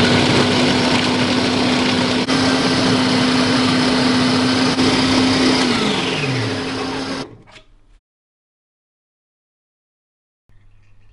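A kitchen grinder whirs loudly and steadily while chopping onion, green chili and ginger, its motor pitch dropping as it winds down and stops, followed by quiet.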